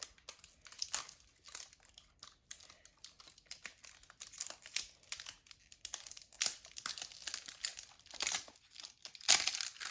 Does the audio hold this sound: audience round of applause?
no